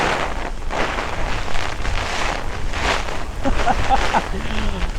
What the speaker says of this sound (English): I just got hit by that heavy wind.